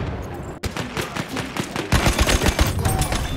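Rapid automatic gunfire from the World War I shooter Battlefield 1, with dense bursts of shots, loud and close, that grow heavier in the second half.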